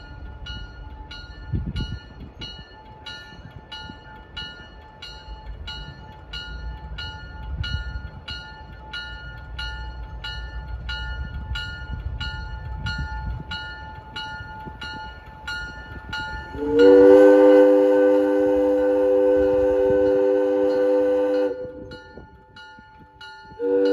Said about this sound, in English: you should be able to hear the whistle any second now